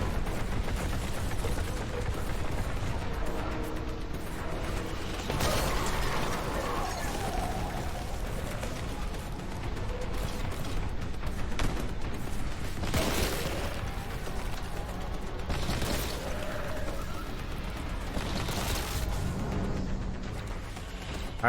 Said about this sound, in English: Oh, I still hear gunfire.